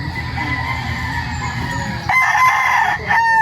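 Gamefowl rooster on a farm crowing loudly and repeatedly, with clucking and other fowl calling in the background; the calls are close and clear and run throughout without any talk.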